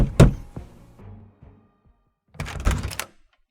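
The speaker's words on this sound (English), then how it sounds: "banged on the door" Heavy knocking on an apartment door: a loud cluster of thuds, then a short pause, then a second burst of several quick, solid bangs close by.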